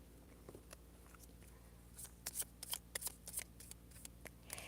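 Tarot cards being shuffled by hand in a quiet room, a quick run of crisp riffling flutters and soft slaps clustering toward the end, close and fairly faint with no talk.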